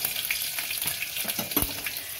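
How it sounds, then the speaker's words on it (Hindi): Garlic crackles and sizzles in hot oil in a pan for dahi kadhi, a bright, continuous hiss broken by a few louder pops and stirring scrapes. "उसके बाद अभी मैं लहसुन डाल रही हूँ।"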